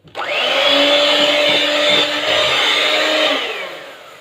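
Electric mixer whipping chocolate mousse, a loud steady motor whine that starts abruptly, holds a constant droning pitch with slight wobble, then tapers off near the end, close by with no talking.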